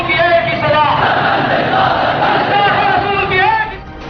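Huge crowd chanting slogans at a funeral in Lahore, a loud mass of voices roaring in unison with rising and falling chant phrases, sustained throughout before dipping briefly at the end.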